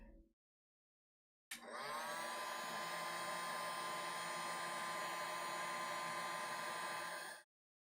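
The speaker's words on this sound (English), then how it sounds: "Sounds like a quiet hair dryer." A hair dryer switches on abruptly and runs with a steady, even whirring hiss for about six seconds before cutting off; moderate level, no talking.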